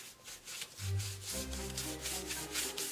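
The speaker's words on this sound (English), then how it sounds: "you're going to get that excess paint off" A wooden board is rubbed to take off excess paint, giving soft repeated scrubbing strokes in a quick rhythm, close and fairly quiet, with a faint tonal hum underneath.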